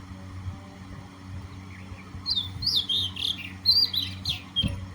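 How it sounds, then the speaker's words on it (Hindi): A small bird calls loudly in the early morning beside village fields, giving a string of sharp, high chirps in quick bursts over a low rural hum. "मैंने सोचा कोई बड़ी चिड़िया होगी जो इतनी ज़ोर ज़ोर से बोल रही, मगर ये छोटी सी इतनी ज़ोर ज़ोर से बोल रही थी।"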